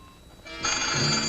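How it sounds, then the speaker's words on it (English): A telephone bell starts ringing abruptly and continues loud and close, a single sustained ring with no voices. "Answer the phone or the curtain gets it."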